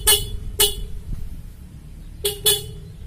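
The horn of a 1970s Chevrolet C10 truck under restoration, tested after rewiring: four short, sharp toots, two early and two close together near the end, loud and close with a quiet background.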